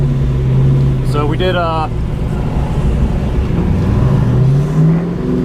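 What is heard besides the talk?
car accelerating on an autocross run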